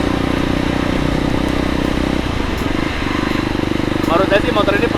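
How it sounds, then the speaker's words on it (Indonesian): A Kawasaki KLX 230 dual-sport motorcycle engine idles and is revved in bursts, a close, loud, rough mechanical throb that dips and rises, with a voice talking partway through. "suaranya itu menggoda banget untuk motor ini ditarik gitu loh"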